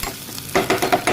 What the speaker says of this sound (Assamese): পিঁয়াজ ভাজি হওক